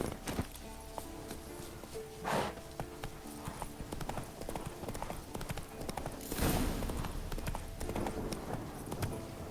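Horse hooves clip-clop steadily in The Witcher 3 as the mount walks along, a close, repeated rhythmic clatter over background game sounds.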